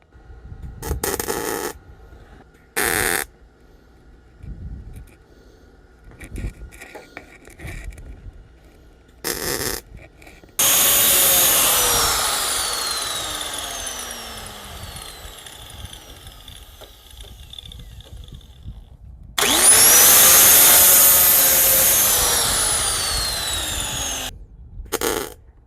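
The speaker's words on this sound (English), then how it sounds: "I'm just going to start welding it and getting it tacked in" Welding a rust repair patch into the trunk gutter of a 1968 AMC Javelin, with short crackling bursts at first and then two long sustained buzzing welds, each followed by quiet pauses.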